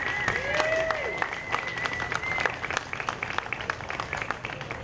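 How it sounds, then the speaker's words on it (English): Applause from an audience at a Stand With Appalachia rally against the Mountain Valley Pipeline, thanking supporters and funders. A steady wash of clapping runs throughout, with a few whistles and shouts rising above it. "Let's give all of our supporters and funders a big round of applause"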